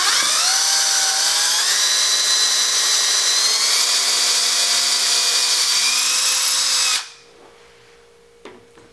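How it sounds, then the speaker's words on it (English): A power drill fitted with a 1/8 inch bit bores all the way through a wooden piece for a clock, whining loud and steady for about seven seconds before it winds down into quiet with a faint click. "take your drill, and I'm just using a 1/8 inch drill bit,"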